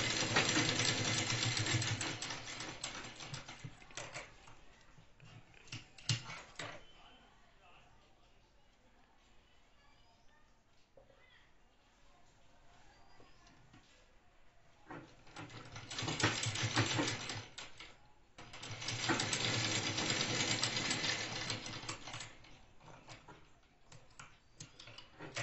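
Domestic sewing machine joining the shoulder seam of a chudidar top, its stitching running in two loud bursts separated by a quieter stretch, with a voice speaking over parts of it.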